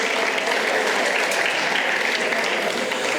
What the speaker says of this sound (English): both the students and teachers deserve a big round of applause for such an amazing performance